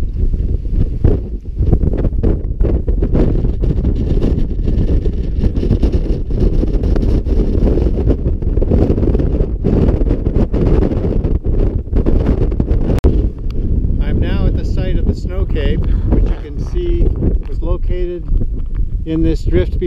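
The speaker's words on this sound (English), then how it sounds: "we are here on a typical windy day" Strong wind of about 25 to 30 knots roars across an exposed Antarctic island, a loud continuous buffeting rumble battering the microphone throughout, with someone speaking underneath toward the end.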